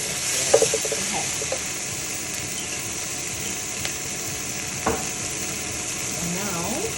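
Tofu and broccoli sizzle in oil in a wok, a continuous dense frying crackle with scattered pops and scraping stirs, and brief quiet speech in the background.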